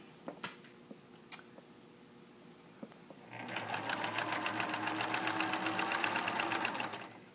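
Sewing machine stitching a waistband casing: a few scattered clicks and taps at first, then the motor starts and runs in a steady, fast rhythmic whir of needle strokes for several seconds close by.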